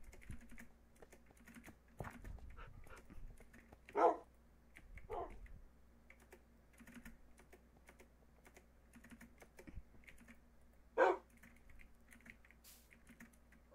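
Dogs in Minecraft give a few sharp, scattered barks over steady, quiet computer keyboard typing that clicks throughout.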